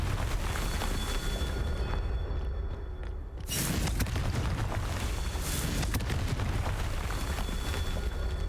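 The Confringo explosion spell in the video game Hogwarts Legacy, cast over a constant rumbling wash of blasts and debris, with a brief lull and then a fresh sharp burst that sets off more loud roaring explosions.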